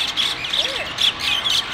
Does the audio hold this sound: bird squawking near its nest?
yes